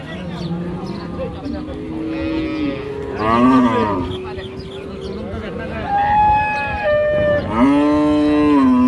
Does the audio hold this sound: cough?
no